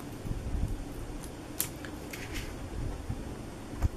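Scissors snipping the ends off while making a small pretzel box, a few quiet crisp cuts spaced apart over low room noise, with a sharper snip near the end.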